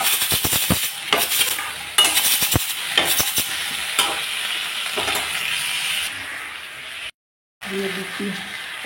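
Eggplant, potato and chopped tomato tossed into hot mustard oil with black cumin in a frying pan, sizzling loudly while a spatula scrapes and stirs in quick repeated strokes, with a brief cut to silence near the end.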